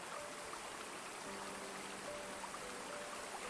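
A waterfall pours as a steady, soft, even rush of water, quiet and continuous in a calm relaxation soundscape, with faint gentle tones drifting underneath.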